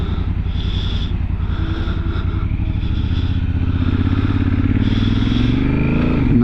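Honda Africa Twin DCT Adventure Sports CRF1000L2 motorcycle engine running steadily up close through a slow U-turn, with a low rumble and a brief rise in revs near the end, plus wind noise and light clatter.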